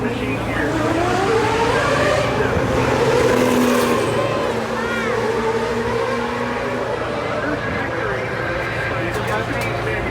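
A historic Camel GTP race car competes in the HMSA race at the 2022 Long Beach Grand Prix. Its engine roars and sweeps in pitch as it passes, beneath steady commentary from an announcer.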